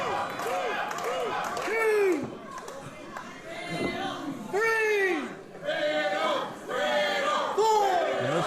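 A wrestling crowd at an FSW Mecca show cheers for Matt Riddle, loud rising and falling chants and yells in waves, with a commentator's voice talking over them.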